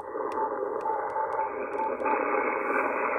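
A weak ham radio signal sits barely audible under a constant buzzing hiss of power line noise, with faint intermittent tones poking through the static.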